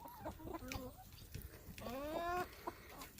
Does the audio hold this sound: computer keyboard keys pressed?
no